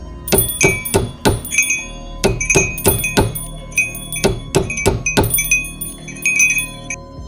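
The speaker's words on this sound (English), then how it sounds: "The bells, hundreds of them, shrieking all at once, clashing in a storm of sound" Many metallic bells and chimes struck in rapid, irregular succession, ringing and clanging over one another with bright lingering tones.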